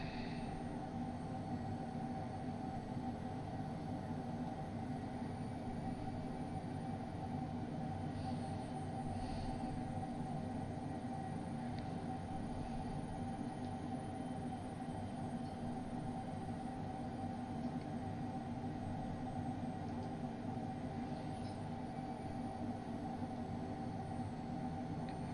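HondaJet engines drone steadily in flight from inside the cabin, a constant loud broadband roar with a low hum and faint high whine that holds level throughout, with no clear rise in pitch or volume.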